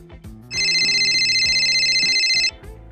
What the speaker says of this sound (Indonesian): Wah, suara HP siapa itu?